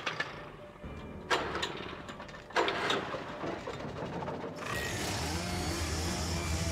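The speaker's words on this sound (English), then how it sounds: "I hear chainsaw" A chainsaw runs in the Alan Wake video game. A rough, mechanical engine drone with sharp surges settles into a steady, louder buzzing roar toward the end.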